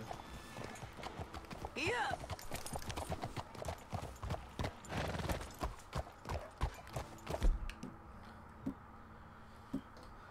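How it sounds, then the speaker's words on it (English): Horse hooves clop on cobblestone streets in Red Dead Redemption 2, a steady rhythm of close, crisp hoofbeats with a brief whinny early on, under people talking. "I just love how the horses sound on the cobble."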